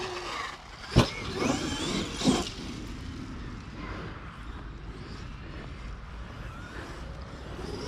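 A Traxxas X-Maxx RC car running on grass lets out a sharp burst of motor whine around the first second, then a second surge, before settling into a quieter, steady hum at a moderate distance outdoors.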